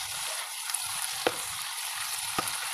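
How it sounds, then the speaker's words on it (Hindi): Potato and long bean (bodi) vegetable frying in a pan, giving a steady broadband sizzle with a few sharp spatula scrapes and taps as it is stirred now and then; no voices. "हल्का सुनहरा होने तक इसे हम फ्राई करेंगे। बीच बीच में आप इसे चलाते रहें"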